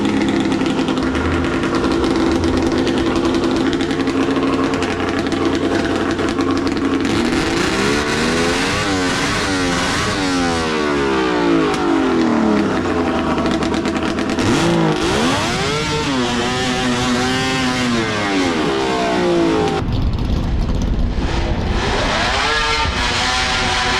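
Snowmobile engines scream through a drag run on asphalt, with loud sustained high revving that climbs in rising sweeps, drops off and then climbs again through repeated hard accelerations, close and alone with no talk.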